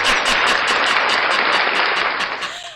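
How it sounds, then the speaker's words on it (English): Loud audience applause fills the space with dense, steady clapping that holds throughout before tapering off at the end. "Round of applause."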